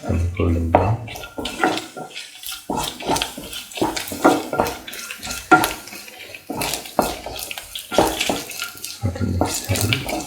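Food is sautéed and stirred in a pan for a ginger potato stew, giving repeated scraping, clattering strokes of a spoon against the pan in an irregular rhythm, close and fairly loud.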